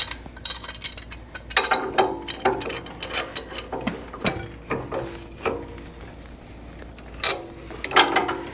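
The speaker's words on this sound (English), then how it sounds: "Turn your wrench around." A ratcheting wrench works on a Farmall Super A tractor, giving bursts of quick metallic clicks and clanks that come and go over about eight seconds, fairly close and moderately loud.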